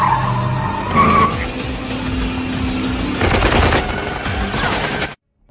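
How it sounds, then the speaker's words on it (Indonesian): Car tires skid and squeal as a car spins in a film chase, followed by a burst of rapid gunshots fired at another car, loud and close before cutting abruptly to silence. "Jensen dengan tiba-tiba memutar mobilnya dan melepaskan tembakan ke arah mobil Pachenko."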